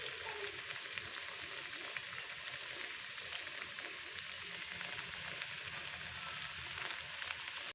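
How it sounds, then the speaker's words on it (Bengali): Vegetable pakoras frying in hot oil make a steady, fairly quiet crackling sizzle that runs evenly throughout, with no one talking. "ওই একইভাবে বাকিগুলো আমি ভেজে নেব।"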